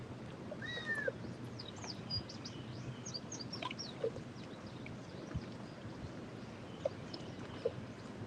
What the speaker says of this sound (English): That bird almost sounds like a kitten meowing.